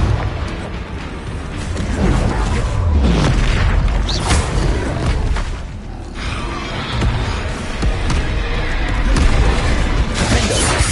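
Confringo spell explosions in the Hogwarts video game: loud, dense booms and bursts crowd together one after another, with rumbling low impacts and a creaking, mechanical texture throughout.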